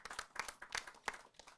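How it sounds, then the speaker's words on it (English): Faint, scattered handclaps from a modest crowd at an Orange, Essex County community center groundbreaking, individual claps distinct and irregular, heard from a distance with no talking. "So we can give them a round of applause"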